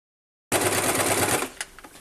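A sewing machine stitching a fabric bag starts abruptly with a fast, close, steady whirring run of about one second, then stops, followed by a few faint clicks.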